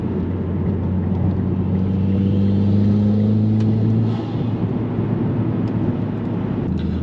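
A Mitsubishi Evo X turbo car drives along with a steady engine drone from inside the cabin, the note rising briefly under acceleration before settling back to a constant rumble.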